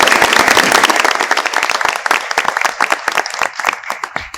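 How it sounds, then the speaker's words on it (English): Audience applause for graduating seniors at a school board meeting, loud and full at first, then thinning into scattered individual claps that fade out. "So a round of applause to all of them."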